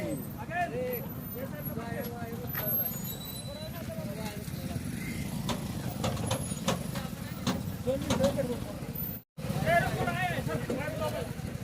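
A borewell truck's engine idles and rumbles low as the vehicle is slowly maneuvered into a tight parking spot, with brief air-brake hisses and people talking over the steady drone.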